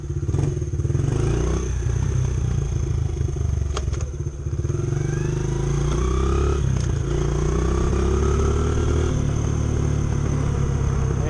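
A Honda XR70 motorcycle engine with an 88cc big bore kit runs close up, revving repeatedly with rising and falling pitch over a rattly, buzzing idle.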